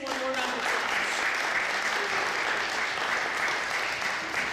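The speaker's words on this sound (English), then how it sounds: "let's give our beautiful candidates one more round of applause" A crowd at a school principal candidates' community forum claps steadily and loudly throughout, a dense wash of applause with no breaks.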